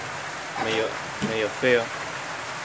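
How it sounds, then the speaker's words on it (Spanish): Steady rain hisses outside, heard from indoors through a small window, throughout, with a person speaking briefly in Spanish over it. "Se puede ver cómo está lloviendo afuera."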